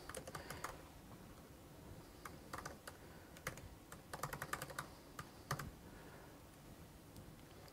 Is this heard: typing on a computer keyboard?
yes